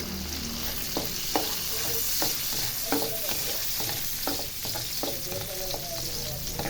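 Chorizo frying in a pan with golden garlic and translucent onion, a steady close sizzle with repeated stirring scrapes and taps from a utensil, without talk.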